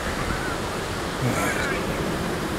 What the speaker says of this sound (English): It's just got very windy here all of a sudden.